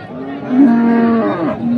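A Sahiwal or crossbred bull at a cattle market in Shariatpur lets out one loud, close, drawn-out moo lasting over a second, rising and then falling at the end.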